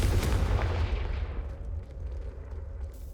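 Confringo spell explosion in the Hogwarts Legacy video game, a deep rumbling blast that decays over about two seconds into a low fading boom.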